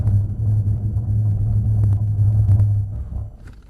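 A Mercedes C63 Black Series brakes hard with ABS engaged, a close, deep rumbling drone with faint pulsing that fades as the car slows to a stop.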